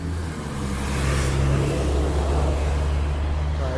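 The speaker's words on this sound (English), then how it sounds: "Look at all the buses." Several city buses, including GO, TTC and Mississauga transit buses, pass along a road, a low rumbling engine drone that swells and holds steady nearby.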